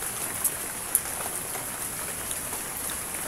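Rain falls steadily and lightly during cooking, with a constant soft hiss and a couple of brief closer drops landing on a surface; no one speaks.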